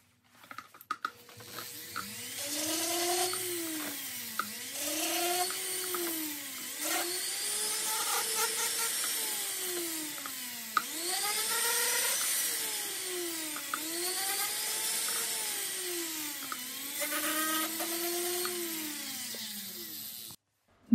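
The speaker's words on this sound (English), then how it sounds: "Now I'm just cleaning up the bottoms and then drilling a small hole to accept the stem." A woodturning lathe whines in repeated rising and falling sweeps as the bottoms of small wooden flowers are cleaned up and a small stem hole is drilled, steady and close for about twenty seconds with no talking.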